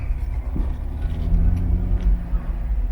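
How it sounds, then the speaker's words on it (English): Busy car traffic at a chaotic intersection in Peru, a low rumbling wash of engines with vehicles moving and accelerating close by, steady and continuous without a pause. "these cars aren't stopping even when the light turns"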